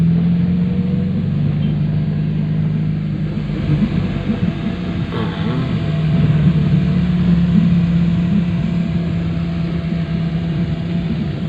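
Traffic rumbles through the town of Santa Cruz, Marinduque, with engines droning and idling nearby in a continuous loud low hum, vehicles swelling slightly as they pass, no talk.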